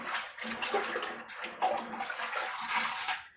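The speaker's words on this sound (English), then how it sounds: "just give them a little swish around" Soaked dry beans swished around by hand in a pot of water, a splashing, sloshing swirl in repeated strokes, close and moderately loud.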